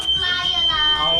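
A smoke alarm shrills in a home kitchen where beef heart schnitzel is frying, a continuous piercing electronic tone that fills the short moment.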